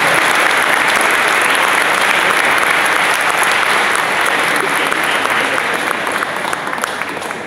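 A concert audience applauds a municipal youth orchestra with loud, dense clapping that stays strong throughout and then tapers slightly in the final moments.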